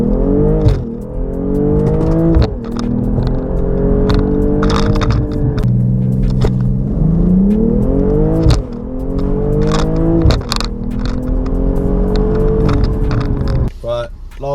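A 2022 BMW M240i G42 pulls away hard on launch control, its engine loud and near, climbing through repeated rising gear pulls with short shift breaks, while a voice talks over the engine.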